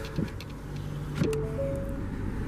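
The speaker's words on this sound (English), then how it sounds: "bring the automatic driver's side window back up" A 2020 Ford Escape SE EcoBoost AWD driver's side automatic window motor hums steadily as the glass rises, a smooth close whine running about a second and a half after a couple of brief clicks.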